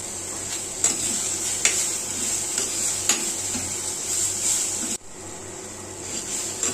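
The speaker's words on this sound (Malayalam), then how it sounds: "സാവാളയൊന്ന് പെട്ടെന്ന് വഴുത്താൻ അല്പം ഉപ്പം കൂടി ചേർത്ത് കൊടുക്കാം" Onions cook with salt and curry leaves in a pan for egg curry, a steady close sizzle with regular metal spatula taps and scrapes against the pan, briefly dipping near the end, no speech.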